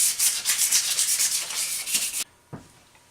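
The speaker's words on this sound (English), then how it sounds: "now that we got the 320 all scuffed up" A wheel being scuffed by hand with 320 grit sandpaper, a rapid rhythmic rasping of back-and-forth strokes up close that stops abruptly, followed by a single soft knock.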